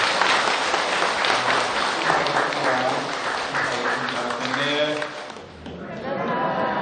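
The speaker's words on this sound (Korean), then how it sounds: "대구 정대준 스님 다시 한번 박수를 한번 보내드리겠습니다." Audience applause for the monk Jeongdae at a Buddhist dharma talk in Daegu, steady dense clapping from a crowd throughout, with voices talking over it and a brief dip near the end.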